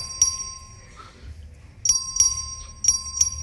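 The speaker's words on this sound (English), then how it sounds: "Clerk, ring the bell." A legislative chamber's bell chimes in a series of sharp, ringing strikes over a low room murmur during a record vote, the tones recurring at uneven intervals with a steady high ring between them.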